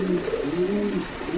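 Pigeons of assorted breeds coo at a pigeon market in Bogura, a steady low throaty cooing that runs close and continuous throughout.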